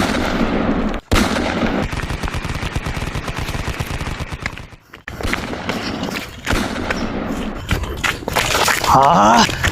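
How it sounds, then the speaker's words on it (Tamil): Loud, rapid bursts of gunfire rattle in quick succession, broken by brief pauses. "துப்பாக்கி."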